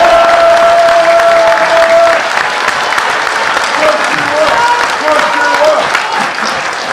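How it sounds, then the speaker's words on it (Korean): A crowd applauds loudly at a Korean National Assembly hall gathering, steady clapping carrying throughout while voices and a brief tonal sound mix in beneath it. "박수 한번 하시죠"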